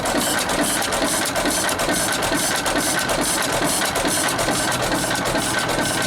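A vintage Sattley stationary engine with an old flat belt running on it chugs and clatters in a fast, even rhythm, loud and close, running steadily on its own.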